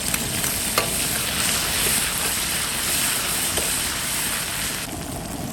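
Ciba chili paste, dried chili and Sichuan pepper stir-fry with ginger and garlic in hot oil in a wok for street-stall hotpot, giving a loud, steady close sizzle with stirring scrapes and no talk.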